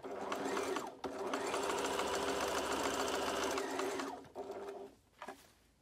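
A sewing machine stitching a seam on a bandana mask, a loud close whirring run after a brief pause, then stopping, followed by a couple of short fabric and handling sounds.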